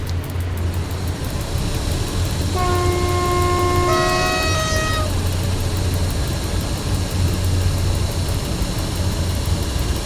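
A long freight train, 414 metres, hauled by a single locomotive rumbles steadily throughout, with a multi-tone horn sounding for about two seconds midway.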